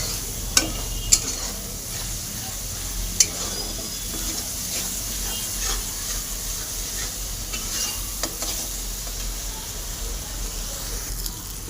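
Spice paste with coriander powder frying and being stirred in a pan for fish curry, a steady loud sizzle broken by a few sharp clicks and utensil knocks.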